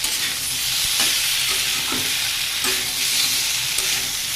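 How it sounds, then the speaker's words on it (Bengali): Flat beans sautéed in a pan, a constant close sizzle with occasional stirring scrapes and clinks. "সিমটাকে বেশ ভালো করে কষিয়ে নিয়েছি"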